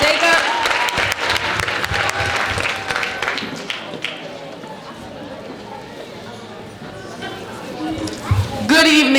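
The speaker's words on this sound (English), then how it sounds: "Let's give him a round of applause." An audience at an oratorical contest claps for a student speaker, a busy burst of applause that fades after a few seconds as a voice starts talking over it.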